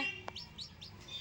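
Several short, high-pitched chirps from a newly hatched chick, repeated at a steady pace, close by, with a soft broadband click near the start.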